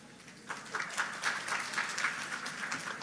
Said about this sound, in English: So I want you to applaud as I say each number.